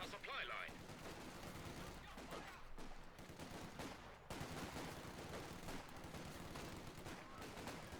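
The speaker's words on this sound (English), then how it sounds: "Quick bit of shooting there." Bursts of rapid gunfire crackle and pop repeatedly in Company of Heroes 2, mixed with a dense electronic game soundscape and faint voices underneath.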